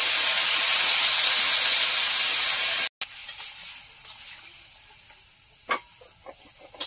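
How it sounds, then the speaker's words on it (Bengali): Water poured into sautéed vegetables in a hot pan for a Bengali lemon-sour fish curry, starting as a loud steady sizzle and hiss that cuts off abruptly, then fading to a softer bubbling with a few brief clatters. "কষিয়ে নিয়েছে, এবার জল দিয়ে দেবো"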